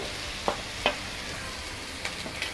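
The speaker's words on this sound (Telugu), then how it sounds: "ఇప్పుడు మనం ఈ కట్ చేసి పెట్టుకున్న ఎగ్స్ వేద్దామండి" Cut boiled egg pieces dropped into a pan of frying onions, soft steady sizzling with a few distinct plops and clinks as pieces land and are stirred, fairly quiet.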